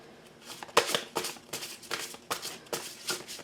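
Gemstone Oracle cards being shuffled by hand, a series of soft papery riffles and slides in irregular bursts, close and fairly quiet with short pauses between them.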